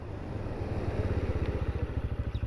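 A Bajaj Pulsar N125 motorcycle brakes hard without ABS. Its close single-cylinder engine thrums in a steady pulsing beat that grows slightly louder, and no one speaks.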